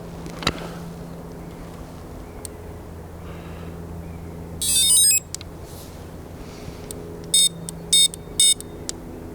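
Carp fishing bite alarm heads at a chilly reservoir, giving short bursts of electronic beeps: one longer run of tones, then several quick separate bleeps later, moderately loud over a quiet outdoor background with no talk.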